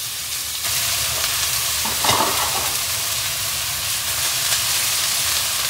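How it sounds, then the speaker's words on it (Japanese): Steamed yakisoba noodles with a little added water being loosened in a pan, a loud, steady steaming sizzle with one short scraping stir partway through. "麺をほぐします。"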